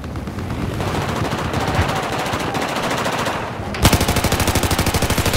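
Sustained automatic fire from an MG4 machine gun in Battlefield 4, a dense stream of rapid shots over the first few seconds and then a louder, sharply pulsed burst near the end, with no talk over it.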